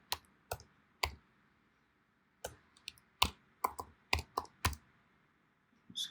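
Keys click on a computer keyboard in short, irregular bursts of sharp taps, close and quiet against near silence, with pauses between groups of strokes.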